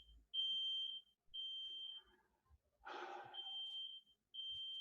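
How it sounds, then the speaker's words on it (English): A fire alarm sounds in repeated shrill beeps in a regular on-off pattern, fairly quiet and indoors, broken briefly by a burst of breathing or rustling noise. "And that is a fire alarm."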